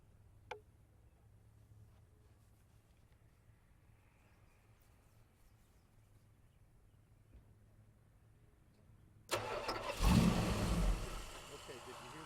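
A Mopar 440 V8 is cranked and fires up abruptly near the end after a long quiet stretch of faint background hum; the start comes with a loud, rough burst that settles into running.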